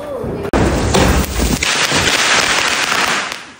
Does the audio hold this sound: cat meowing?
no